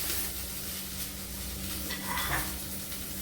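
Okra and sweet corn are stir-fried, a soft, steady sizzle under occasional scraping and light clinks of a spoon against the pan, fairly quiet and with no voices.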